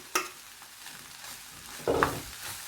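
Onion, cabbage and garlic being warmed in a pan for a samosa filling give a faint, quiet sizzle broken by two brief clattering stirs, close by, with no voices.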